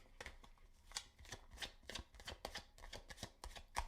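A deck of tarot cards is shuffled and drawn, a close, quiet flurry of rapid papery riffles and soft slaps in an uneven rhythm, with no voices.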